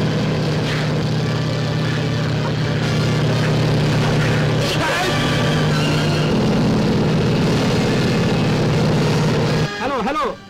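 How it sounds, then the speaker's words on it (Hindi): A helicopter in flight in the 1960 Hindi film Singapore, a steady engine drone with a low rotor hum running through the scene, fading near the end. "Air squads, follow private helicopter MM010 flying"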